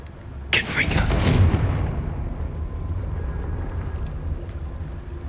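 Confringo blasting curse in Hogwarts Legacy going off in one sudden loud blast, followed by a deep rumbling roar that slowly fades over several seconds.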